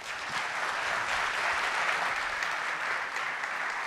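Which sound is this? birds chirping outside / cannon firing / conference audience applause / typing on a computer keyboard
conference audience applause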